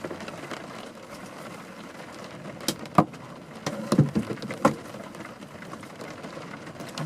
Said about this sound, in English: I'm guessing those are pine cones, Vinny.